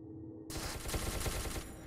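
Rapid automatic gunfire from SCP: Secret Laboratory bursts in after a short quiet lead-in, a dense loud string of shots continuing to the end without talk.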